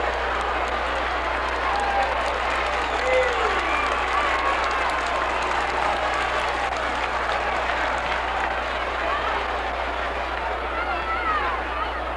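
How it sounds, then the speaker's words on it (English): A 1970s Memphis wrestling arena crowd hollers and cheers after a three-count pin, a steady roar of voices and clapping that holds at even loudness throughout. "the crowd hollering."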